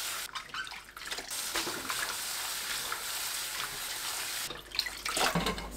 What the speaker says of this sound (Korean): 물에 2번 헹궈주세요